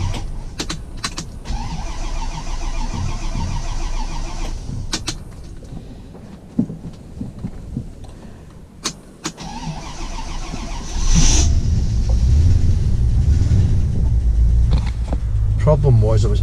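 A Rolls Royce Silver Shadow engine cranks and catches, then settles into a steady, fairly loud idle close by, with a voice talking over it.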